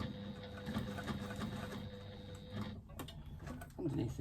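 Sewing machine stitching across underneath a connector: a steady rapid mechanical chatter of needle strokes, close and fairly quiet, stopping briefly near the end before a short resumption, with faint talk.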